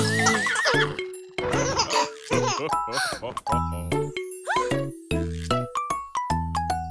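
A horse neighs in a French Christmas farm-animal children's song, whinnies and sung, pitched voices mixed over bright music with jingling bells and clip-clop touches.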